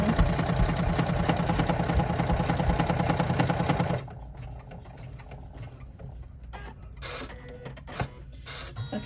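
An embroidery machine runs a top stitch on a striped fabric clutch, a steady loud mechanical whir with rapid needle chatter for about four seconds, then stops, leaving quieter intermittent clicks and handling noises.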